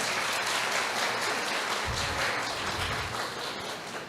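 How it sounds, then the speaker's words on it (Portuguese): A church congregation at an Adventist service gives a round of applause, dense, sustained clapping filling the room at a steady level for about four seconds before easing slightly. "Vamos dar uma salva de palmas."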